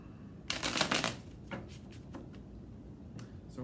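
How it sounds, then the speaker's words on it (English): Tarot cards shuffled by hand on a cloth-covered table during a reading, a dense riffling burst followed by a few softer, scattered card taps and slides, close and alone. "Let's give a little shuffle."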